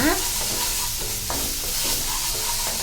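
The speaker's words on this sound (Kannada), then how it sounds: "ತುಂಬ ಸ್ವಲ್ಪ ಫ್ರೈ ಮಾಡ್ಕೊಳ್ಬೇಕು ಚೆನ್ನಾಗಿ ಮಸಾಲೆ. ಫ್ರೈ ಆಗ್ತಾ ಇದೆ, ಸ್ವಲ್ಪ ಫ್ರೈ ಆಗಲಿ ಇನ್ನು ಸ್ವಲ್ಪ." Masala sizzles and is stirred in a hot pan for a chole puri dish, loud close frying hiss broken by regular scraping strokes of a spoon, with no talking.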